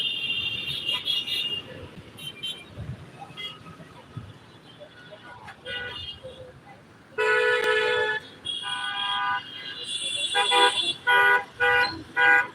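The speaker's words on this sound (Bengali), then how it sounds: "যত সময় গড়াচ্ছে গাড়ির চাপ বাড়ছে" Road traffic on a street narrowed by metro rail construction, with cars and motorbikes honking in repeated short and long blasts, some close and loud, over a background rumble of engines.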